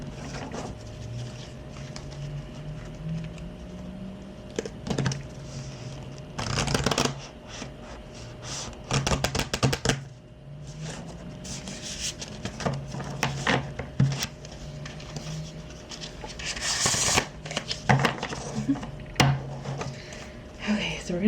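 A deck of tarot cards is shuffled by hand on a table in repeated crisp riffling bursts with soft taps and slides between them, close and moderately loud, while a person speaks quietly at times.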